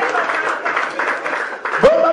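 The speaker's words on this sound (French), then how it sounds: "Applaudissez très fort." Crowd applause blended with voices, a steady clatter of clapping with a person speaking over it near the end, at an 80th birthday celebration in Matadi, DR Congo.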